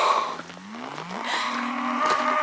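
Cows low in long, drawn-out moos on a Highlands trail along the Cape Wrath Trail, several overlapping calls from a small herd, moderately close, with no talk.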